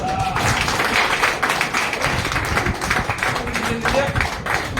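A crowd keeps up dense, continuous clapping at an outdoor gathering, loud and close throughout, with voices mixed in under the steady patter.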